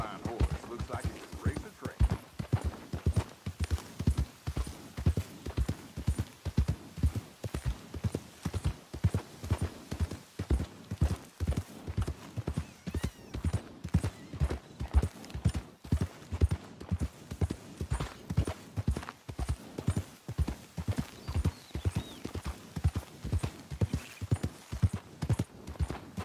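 Rhythmic clip-clop of horse hooves at a steady walking pace in Red Dead Redemption 2, even and continuous, with game-like ambience and no talking.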